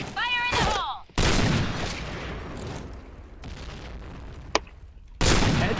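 Explosive bursts and gunfire in a competitive shooter match, with loud broadband blasts separated by quieter stretches and a sharp single crack near the end, while players talk over them.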